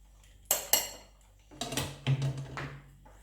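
A Silvercrest SFG 1900 A1 deep fryer basket of fried potatoes shaken to drain oil: two sharp metallic clanks, then a cluster of rattling knocks and scrapes close by.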